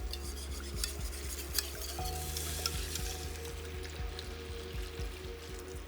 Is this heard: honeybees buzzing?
no